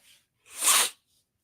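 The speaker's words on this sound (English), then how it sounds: "excuse my allergies if I keep sneezing and stuff" A single close, sharp sneeze from a person with allergies bursts out after a brief quiet moment, followed by silence.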